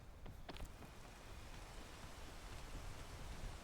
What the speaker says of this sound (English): Oh, here comes the rain.